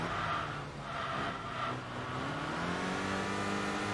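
Turbocharged four-cylinder Nissan Silvia engine racing in Enthusia Professional Racing, a steady droning rev that climbs and holds at high pitch, loud and alone with no talk.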